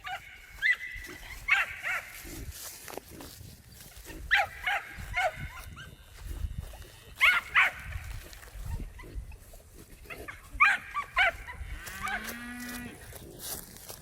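Cattle lowing on a farm where a loose pig is being herded, several drawn-out moos repeating every few seconds at mid distance over outdoor noise, with a dog barking and grunting mixed in.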